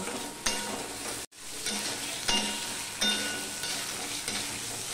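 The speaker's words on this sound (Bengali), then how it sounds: "মিশিয়ে নিয়ে আদার যতক্ষণ না কাঁচা গন্ধটা চলে যাচ্ছে, টমেটোটা নরম হচ্ছে, ততক্ষণ পর্যন্ত আমি ভেজে নেব" Ginger, tomato and green chillies fry in a hot pan with a steady close sizzle, broken by a few scraping stirs and one brief gap in the sound, with no talking.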